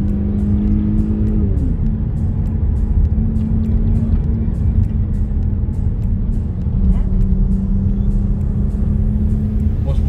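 A Mercedes E400 Coupé with AMG package hums and drones inside the cabin in sport mode, a loud steady engine tone that shifts pitch once, with someone talking over it.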